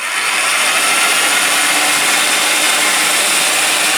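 A Dnipro-M BM-142S 1500 W construction mixer runs steadily at its lowest speed, giving a continuous loud motor whine with broad hiss and no pauses or voices.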